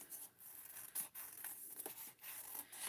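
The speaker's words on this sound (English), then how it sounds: "And now we get to do the fun of fussy cutting." Scissors fussy-cutting around a stamped paper image, giving soft, close snipping and paper-rubbing sounds in short uneven bursts over a faint steady hiss, with no talking.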